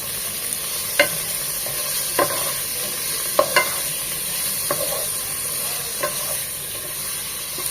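Chicken pieces frying in a pan, a continuous sizzle punctuated by distinct utensil scrapes and knocks every second or so as the meat is stirred, close and clear with no speech.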